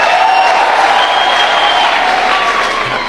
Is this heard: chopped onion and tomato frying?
no